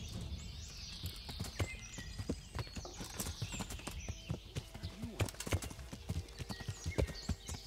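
Horse hooves clip-clop steadily in Kingdom Come: Deliverance, a rhythmic run of close, fairly loud hoofbeats with no talking over them.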